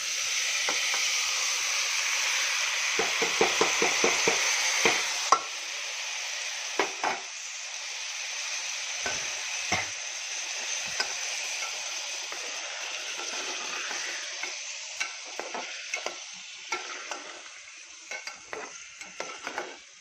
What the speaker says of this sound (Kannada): ಇದು ಸ್ವಲ್ಪ ಒಗ್ಗರಣೆ ಒಳಗೆ ಫ್ರೈ ಆಗಲಿ